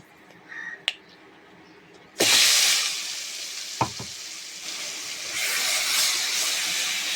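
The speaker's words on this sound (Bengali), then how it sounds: "পেস্টটা দিয়ে আমি বেশ ভালোভাবে নাড়াচাড়া করে একটু কষিয়ে নেব" Spice paste goes into a pan with potatoes for chicken curry: after a quiet start with a couple of sharp clicks, a loud sizzle bursts in and continues with stirring scrapes and a tap, swelling again near the end.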